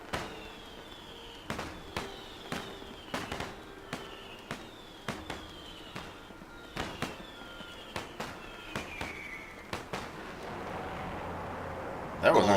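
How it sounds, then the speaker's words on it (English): Fireworks burst one after another in the Guild Wars 2 video game, sharp cracking pops at a steady rhythm with whistling trails, over ongoing game ambience and a voice talking, ending in a louder crackle. "Ooh, fireworks."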